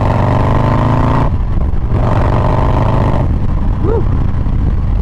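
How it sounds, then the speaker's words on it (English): A motorcycle in sport mode accelerates, its engine roaring loud and close with rising pitch in repeated surges as gears change, the drone steady throughout. "Just that instant pull, and the bike almost even sounds different too."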